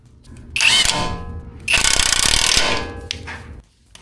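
Close, loud mechanical ratcheting in bursts, a power tool whirring through short runs tightening bolts on an old Toyota truck's ball joints, with brief pauses between.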